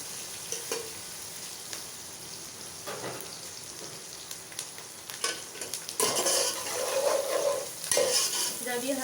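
Capsicum sautéing in a pan, a soft steady sizzle with stirring that swells louder and busier in the last few seconds, close by and without speech.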